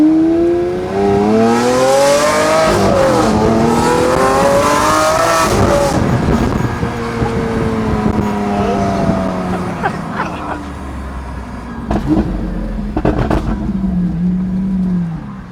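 A Lamborghini exhaust revs hard and accelerates, its loud engine note climbing in repeated sweeping pulls, then settling into lower, rougher bursts and pops up close.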